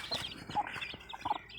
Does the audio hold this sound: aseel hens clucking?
yes